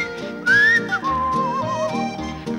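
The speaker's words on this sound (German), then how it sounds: "Mit dem Pfeifen geht's auch nicht mehr so recht." Human whistling within an old German schlager song, a clear melodic line gliding up then wavering over the band's accompaniment, loud and close.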